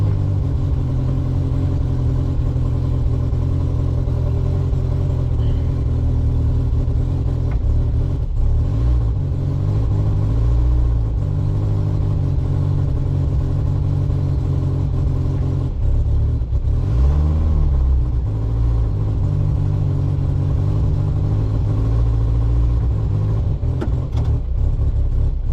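Car engine running steadily and close while the vehicle reverses with the handbrake released, a loud continuous drone with slight swells in revs.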